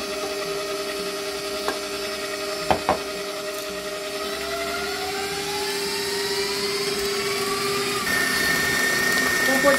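A mixer whirs steadily while beating choux pastry dough as whole eggs are added one at a time, with the motor pitch gliding upward and a couple of sharp knocks against the bowl.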